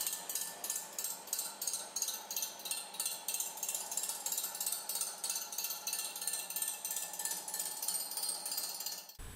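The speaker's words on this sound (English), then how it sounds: "Then start the grinding stone by pressing this button." Grinding stone of a Dual Master 3000iR reel grinder running against a mower reel, a steady rapid rhythmic rasping with regular pulses, close and continuous until it stops abruptly at the end.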